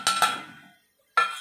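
A lid goes onto a pot of Andhra-style chicken curry with two quick metallic clinks that ring briefly, then a pause and one more clink.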